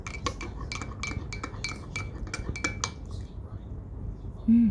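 A spoon clinks rapidly against a glass while mixing halo-halo dessert, a quick run of bright metallic taps for about three seconds, then the clinking stops and a short low hum follows.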